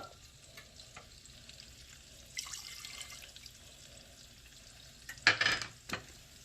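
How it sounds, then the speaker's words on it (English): Collard greens being stirred in a pot right after a splash of Kentucky bourbon, with a low, quiet simmer and sizzle and a few soft scraping stirs near the end. "Give it a nice stir."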